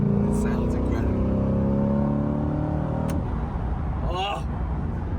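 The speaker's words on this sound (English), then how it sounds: "nice V8 in it. Sounds absolutely ridiculous." A V8-engined car being revved and driven, its engine note rising steadily for about three seconds before easing off, loud and close, with a brief voice toward the end.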